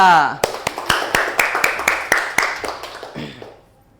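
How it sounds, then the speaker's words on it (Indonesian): A classroom group claps for a student during a microteaching session, a quick run of sharp, close, fairly loud claps that fades out near the end. "tepuk tangan dulu buat Mbak Ica"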